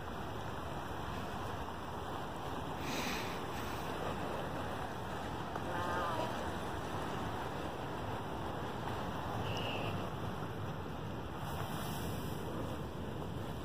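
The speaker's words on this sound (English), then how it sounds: "I hear the waterfall." A waterfall in the Grottos day use area makes a continuous, broad rushing roar that holds steady and fairly loud throughout, with no talking.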